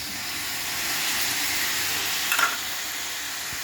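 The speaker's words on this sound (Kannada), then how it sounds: "ಇವಾಗ ಹುಣಸೆ ರಸ ಹಾಕೋಣ ಸ್ವಲ್ಪ" Tamarind juice poured into bitter gourd palya sizzling in a pan, giving a steady broad hiss and fry throughout with a brief brighter spurt near the end.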